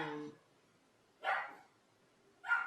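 Three short dog barks spaced about a second apart, fairly close and moderately loud, indoors at home, with quiet gaps between them.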